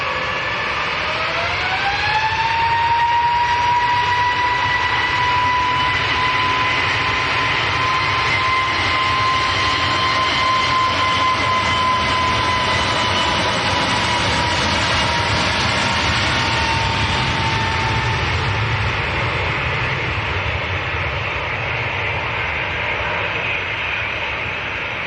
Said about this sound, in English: next to go is EasyJet's A321 Neo going to Marrakesh down in Morocco.